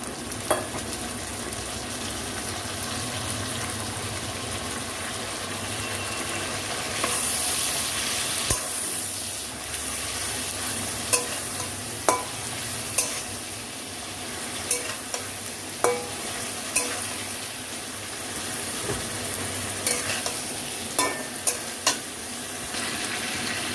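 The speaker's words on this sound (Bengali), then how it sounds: "এবার আদা রসুন কাঁচা লঙ্কা বাটাটা দিয়ে দিচ্ছি।" Ginger, garlic and green chili paste frying with onions in hot oil for a red chicken curry with potatoes: a steady loud sizzle, brief spatters, and a spoon scraping the pan now and then.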